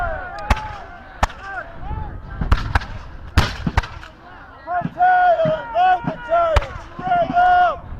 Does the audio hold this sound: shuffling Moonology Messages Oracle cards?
no